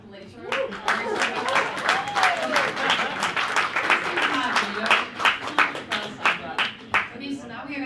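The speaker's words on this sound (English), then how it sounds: "give it a loud applause for Rain Day" Audience at a hackathon presentation applauding, a dense burst of close clapping that thins into separate claps toward the end, with a voice speaking over the start.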